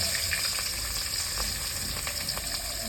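Fish sizzles steadily in hot mustard oil, a continuous crackling fry with a few sharper pops, close and fairly quiet, with no voices.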